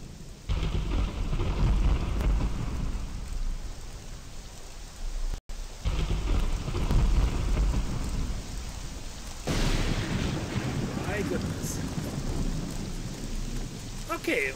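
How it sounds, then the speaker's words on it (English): Rain falls steadily with rolling thunder in a video game world, a dense, loud wash of rainfall with deep rumbles throughout, sounding alone without speech. "And now it rains."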